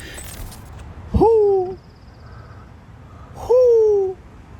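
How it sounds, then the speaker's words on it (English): Two loud, drawn-out hooting calls from an owl ring out a couple of seconds apart over a low murmur of background noise. "It's a beautiful owl, though."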